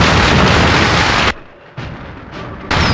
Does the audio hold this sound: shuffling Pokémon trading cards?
no